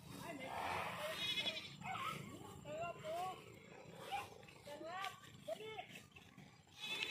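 A goat bleats repeatedly in short wavering cries at moderate distance, mixed with people talking nearby.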